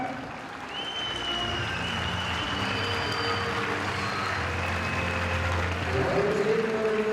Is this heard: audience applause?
yes